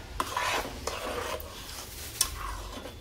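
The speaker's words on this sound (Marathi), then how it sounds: "हे पण थोडंसं परतवू" Ginger paste being sautéed in a pan gives a soft, steady scraping and stirring of a spatula against metal, close and quiet, with a faint sizzle and a sharper clink near the end.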